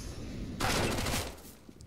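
A quick burst of CS:GO gunfire on the Mirage map during a professional match, a short loud rattle of shots lasting about half a second before it fades into the background.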